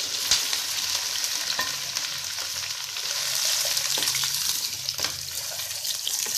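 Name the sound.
okra frying in hot oil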